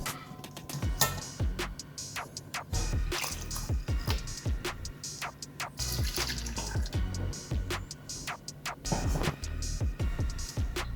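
A finely ground paste of chili and garlic is strained for an omapodi (besan sev) dough, and liquid drips and splatters close by. The wet drips and squishy taps come in an irregular patter, alone and without voices.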